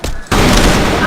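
Loud bursts of gunfire in the online shooter game CrossFire, with a short shot, a brief gap, then a dense continuous fusillade filling the rest of the moment.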